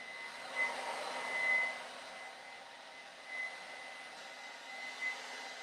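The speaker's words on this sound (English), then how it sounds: "just going to use my fingers, still blow drying it back towards the center" Hair dryer blow drying hair, a steady airy whoosh with a constant whine and slight swells as it moves around the head.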